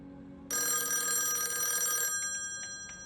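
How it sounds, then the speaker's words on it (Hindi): An electronic telephone bell rings loudly and continuously for over a second, then gives a few shorter fading trills. "फोन जाने दो, जाने दो, जाने दो, मैं उठा लूंगा।"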